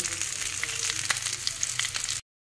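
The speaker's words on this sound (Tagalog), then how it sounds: "Yung kanyang mantika kumukulo-kulo" Oil sizzles and bubbles steadily in a pan while cooking adobo, a continuous crackling hiss with small pops, then cuts off abruptly.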